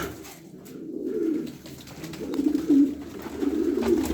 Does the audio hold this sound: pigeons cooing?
yes